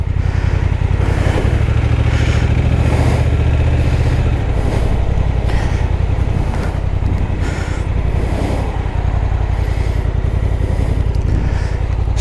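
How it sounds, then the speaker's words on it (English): A Honda NT1100 motorcycle engine runs steadily and loudly up close, a deep continuous rumble with pulsing revs, mixed with wind buffeting and no talking. "It's got a lovely engine note on it."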